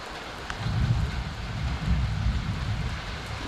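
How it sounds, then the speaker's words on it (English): Rain falling on a summer day near Orlando, Florida, heard from under cover as a steady, moderately loud hiss and patter with a low rumbling wash underneath, continuous throughout. "I love to watch it rain."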